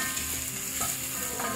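Black chana masala cooking in a pan over medium-low heat, a steady soft sizzle with faint stirring, close and even throughout, no talking.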